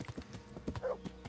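Horse hooves clip-clop in a quick, even rhythm as a rider travels on horseback in Kingdom Come: Deliverance, soft and moderately close, with no talk.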